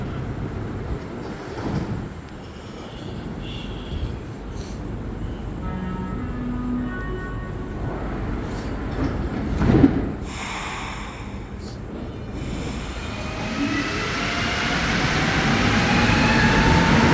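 Montreal metro train at Charlevoix station late at night, a low rumbling rolling drone with brief squeals and clanks, building louder toward the end as the train moves, with faint voices now and then.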